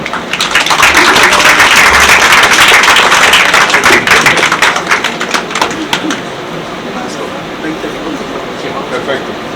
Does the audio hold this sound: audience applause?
yes